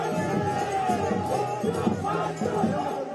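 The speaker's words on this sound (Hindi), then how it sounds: "वहीं ममता के समर्थन में नारेबाजी भी हो रही थी।" Supporters of Mamata Banerjee chant slogans during her walk to a temple amid a West Bengal election crowd, a steady, fairly faint wash of massed voices rising and falling without a clear break.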